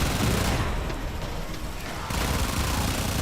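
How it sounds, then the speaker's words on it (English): A minigun fires in the Warframe video game, a dense, continuous roar of rapid shots that holds steady for the whole stretch, easing slightly in the middle before coming back at full strength. "This is a minigun."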